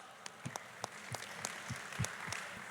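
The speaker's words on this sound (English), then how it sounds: "Please, can you give a loud round of applause?" A small audience claps for a guest joining the stage at a panel event on no-code roles. The applause is scattered and moderately quiet, with distinct individual claps over a steady patter.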